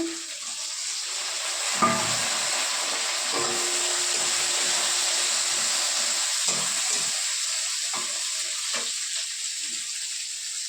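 Bay leaves and tomato dropped into hot oil for a homestyle Bengali boal fish curry, a steady loud sizzle and hiss throughout, with occasional clinks and stirring sounds close by.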